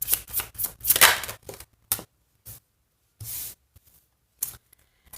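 Tarot cards being shuffled by hand, a run of quick riffling and sliding bursts up close that thin into a few separate flicks and rustles, with no talking.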